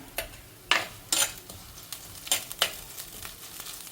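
Softened onions fry in a pan as ginger and garlic go in for a small fish curry, giving a close, crackling sizzle broken by several sharp stirring scrapes and clinks.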